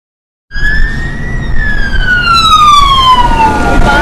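A police car siren starts suddenly after a brief silence and wails loudly and close, with a falling, sweeping tone that keeps sounding to the end.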